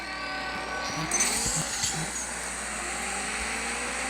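A heavy Dodge car with only three gears in a racing video game, engine droning steadily at high revs with brief tire squeal, a continuous close motor tone filling the whole stretch.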